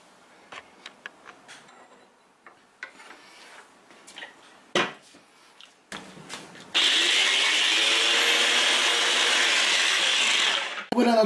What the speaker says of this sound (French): je vais passer tout ça au mixeur